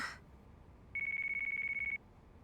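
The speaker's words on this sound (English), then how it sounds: "Oh, now I have a phone call." A phone rings inside Yakuza 5 Remastered, a single steady electronic ring lasting about a second, clear and fairly loud over quiet game background.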